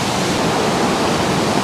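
A waterfall pours as a dense, steady broadband roar, loud and unbroken from start to end with nothing else audible.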